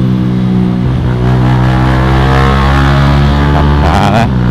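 Yamaha M-Slaz motorcycle riding at speed, a loud, continuous engine drone with steady harmonic whine and strong wind roar, holding a high, even pitch close to the microphone, with a rider's voice faintly beneath.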